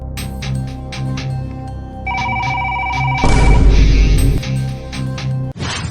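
A telephone rings in repeated bursts of bright bell tones, joined by a louder electronic ringtone and a brief crash near the end.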